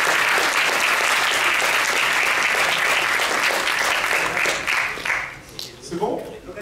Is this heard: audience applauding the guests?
yes